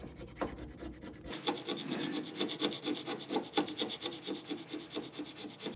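Steady back-and-forth rasping of a file on the inside of a wooden saw handle, close up and rhythmic, with a few scraping strokes at the start.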